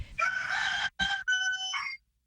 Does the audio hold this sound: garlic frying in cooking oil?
no